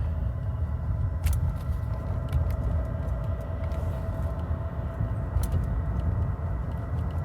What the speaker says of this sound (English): we're driving all on battery right now